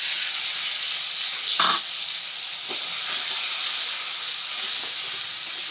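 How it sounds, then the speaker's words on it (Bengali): Medium tomato paste sizzling in a hot pan on a low-to-medium gas flame for a cauliflower and potato curry, a steady close hiss with a brief louder spit of steam. "টমেটো পেস্টটা আমি ভালো করে কষিয়ে নেব, এর কাঁচা গন্ধটা চলে যাওয়া পর্যন্ত।"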